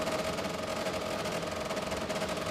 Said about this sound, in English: That's sounds like a Wankel engine.